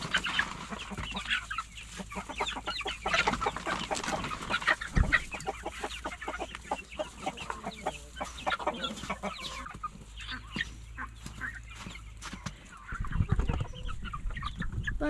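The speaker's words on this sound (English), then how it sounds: "Bunch of happy chickens." A flock of backyard chickens clucking busily in their coop, close and continuous, with overlapping clucks and chatter throughout and a brief low rumble near the end.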